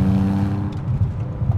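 A BMW E46 330Ci engine pulls hard under throttle, a loud, close, humming drone that rises and wavers as the revs climb.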